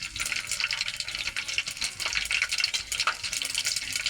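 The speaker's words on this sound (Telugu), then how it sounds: "ఇప్పుడు పచ్చిమిరపకాయలు వేస్తున్నాం," Green chillies fry in hot oil with tempering seeds in an Indian kitchen, giving a steady, fairly quiet crackling sizzle with light stirring throughout.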